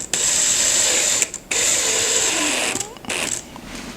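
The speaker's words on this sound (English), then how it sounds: "So put it on a low setting and screw it in." Cordless drill on a low setting driving screws into a solid wood ceiling fan, a close high whine that runs in bursts with short pauses and small ratcheting clicks between them.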